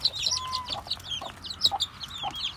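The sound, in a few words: Rhode Island Red chicks and hens clucking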